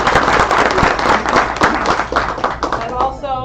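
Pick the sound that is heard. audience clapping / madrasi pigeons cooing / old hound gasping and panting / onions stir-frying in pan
audience clapping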